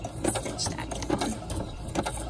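A sewing machine stitching down a folded paper ruffle runs in one steady, close mechanical whir with a fast rhythmic clatter throughout.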